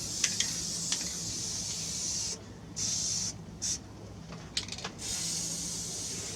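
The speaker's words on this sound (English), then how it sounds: "If you watch when you spray, you can see where you're spraying, the stream where it comes out" Spray paint hissing from an aerosol can onto a Mossberg 500A 12-gauge shotgun, in several bursts of steady close hiss separated by short pauses, with no talk.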